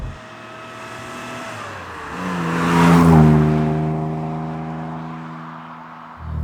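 An Aston Martin DB6 with carburetors revs freely, its engine note climbing to a loud peak and then easing back down as it idles on, heard up close with no talking.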